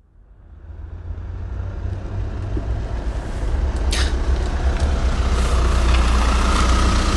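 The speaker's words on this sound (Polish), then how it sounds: "nagle rzeczywiście usłyszeliśmy warkot silnika" Engine roar building steadily from faint to loud as a vehicle approaches, a deep continuous rumble with no voices.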